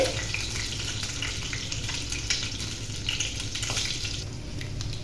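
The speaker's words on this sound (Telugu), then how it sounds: "ఎగ్స్ అండి ఇవి మంచి బ్రౌన్ కలర్ వచ్చే వరకు వేయించుకోవాలి" Eggs frying in hot oil in a pan until browned, a steady, dense sizzle and crackle that runs continuously up close with no voices over it.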